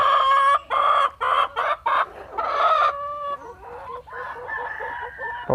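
Native Thai farmyard chickens cluck in loud, choppy bursts while a rooster crows close by, the calls overlapping in a steady, busy run with no talking.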